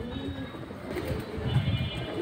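Fancy pigeons, red-banded flyer breed among them, cooing softly in a continuous low murmur of overlapping coos, close by and steady, with a faint background hum.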